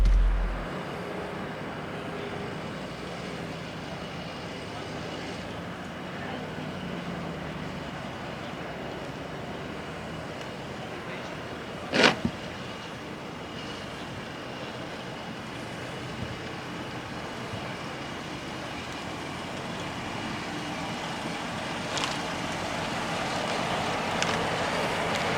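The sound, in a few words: Jeep Grand Cherokee L driving over cobblestone off-road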